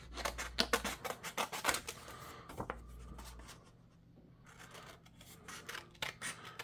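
Scissors trim paper around printed papercraft soldiers in a run of close, crisp snips and scrapes, then a quiet pause, then a few more cuts.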